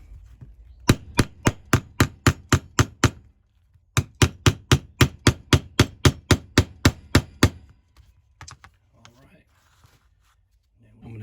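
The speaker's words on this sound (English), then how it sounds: "So you just need a little hammer." A small hammer taps rapidly and evenly on a ferro rod holder for a Kephart knife, in two bursts of about a dozen crisp strikes each, close up, followed by quiet handling noises.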